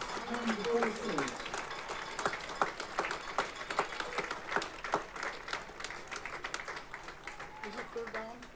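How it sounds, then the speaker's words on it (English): Stadium crowd at a high school football game between West Bend East and Homestead applauds to honor military veterans, a steady wash of clapping with scattered louder claps throughout, a voice briefly audible near the start. "Please join me in a heartfelt round of applause in honor of those who have served in all branches of the United States Armed Forces."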